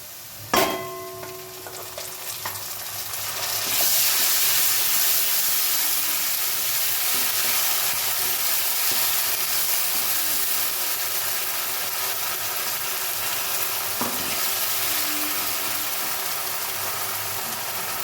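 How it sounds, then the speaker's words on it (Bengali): Browned onions and spices sizzling in a pan for egg curry, a steady loud frying hiss that rises after a sharp clatter at the start and carries on continuously with no talk. "পেঁয়াজটা লাল লাল করে ভেজে নিয়েছি এবার দেব মশলা"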